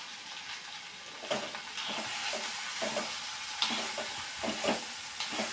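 Avial with dried fish being stirred after salt goes in, a spoon scraping and turning the mix in a pan with soft sizzling underneath, a steady run of close scrapes and knocks and no voices.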